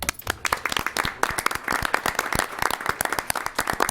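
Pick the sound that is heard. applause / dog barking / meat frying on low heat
applause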